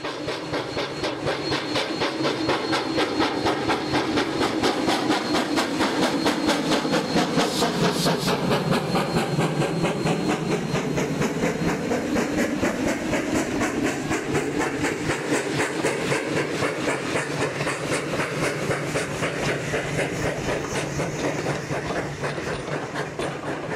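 Sierra Railway steam locomotive number 3 rolls steadily around its train at Jamestown, a continuous loud rumble with rhythmic clanking and hissing that holds throughout.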